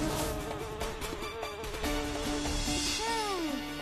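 Flies and mosquitoes buzz in a cartoon shop, a thin whining drone running throughout alongside background music and cartoon effects.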